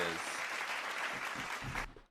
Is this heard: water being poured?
no